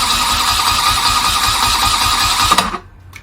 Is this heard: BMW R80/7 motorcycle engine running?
yes